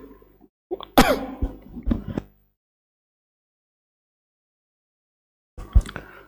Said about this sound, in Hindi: थोड़ा सा खांसी हो गई इसलिए परेशानी है